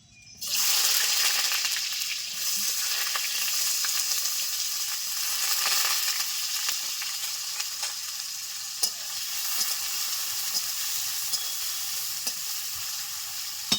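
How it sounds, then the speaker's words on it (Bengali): Potatoes frying in hot mustard oil in a wok, a loud steady hiss and crackle that bursts in at once and keeps going, with a few sharp stirring clicks and no talking. "তেল গরম হয়ে গেছে, আলুগুলো ভেজে নেব।"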